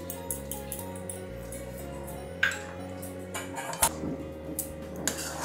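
A spoon stirs cooked bottle gourd and moong dal in a metal pot, giving light scraping clinks and taps in an irregular rhythm, close and fairly quiet, over a steady low hum.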